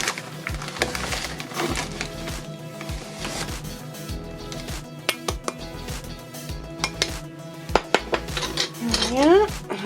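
Icing sugar is stirred into a homemade cake mix in a bowl. A utensil keeps up a steady, close clatter and scrape against the bowl with irregular knocks throughout, and a few words of speech are faint underneath.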